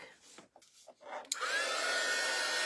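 A hair dryer drying coffee-stained paper craft tags: a few soft rustles and handling noises, then the dryer switches on into a loud, steady, close-up blowing whoosh that continues to the end.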